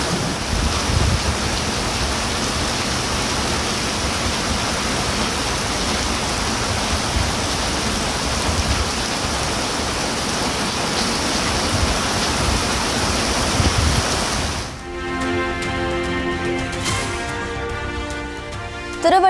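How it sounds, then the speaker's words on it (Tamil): Heavy rain with strong gusty wind pours down around Vadalur in Cuddalore district as a dense, steady roaring hiss lasting about fifteen seconds, then cuts abruptly to music. "கடலூர் மாவட்டம் வடலூர் சுற்றுவட்டார பகுதிகளில் சூறைக்காற்றுடன் கனமழை."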